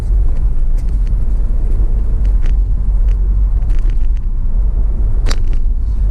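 A car pulls away from traffic lights in first gear, its engine a loud, steady low rumble with a brief higher clatter near the end, no talking.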